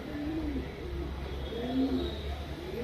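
A blue-shaded, old-lineage pigeon kept for sale coos softly, several low rolling coos rising and falling over a quiet background hum.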